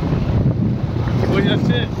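Cool evening wind buffets the microphone on a road trip home, a loud, steady low rumble that fills the whole moment with only faint tonal traces.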